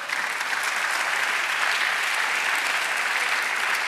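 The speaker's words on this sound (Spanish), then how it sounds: "Denle un aplauso al Señor." A church congregation applauds steadily in a dense, even wash of clapping that holds at full strength for the whole stretch, with no voices standing out.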